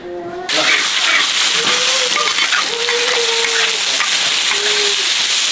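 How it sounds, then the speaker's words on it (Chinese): Food is stir-fried in a wok over a fire in a home kitchen: a sudden loud sizzle bursts in after a brief quiet start and keeps hissing steadily, with voices speaking over the cooking. "开始炒菜啦。"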